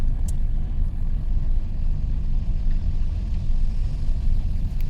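A car rolls along in second gear on the clutch alone, a steady low engine rumble with road noise, close and continuous throughout.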